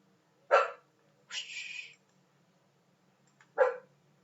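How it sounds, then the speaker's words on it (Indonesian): A dog barks indoors, three separate short barks spaced over a few seconds, one drawn out slightly longer, fairly close against a quiet background with a faint low hum. "anjing saya lagi menggonggong"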